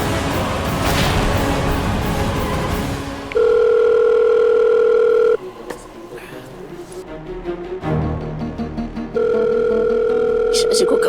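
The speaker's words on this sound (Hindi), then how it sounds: "फोन क्यों नहीं उठा रही है?" A telephone rings unanswered in two loud, steady electronic tone bursts separated by a pause, set amid dramatic music and background sound in a Hindi TV drama scene.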